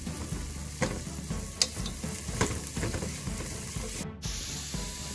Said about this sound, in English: I'm going to saute the onions until it's golden brown